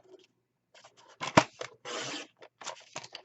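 Scissors cutting cardstock cover paper for a handmade Valentine's mini album, a few close snips and a longer slicing stroke, crisp and nearby with no talk.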